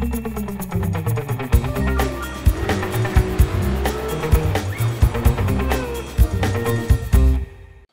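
A 2013 Dodge Viper SRT drives hard with a loud engine roar and repeated tire squeals, punctuated by sharp bursts over a steady, dense rumble.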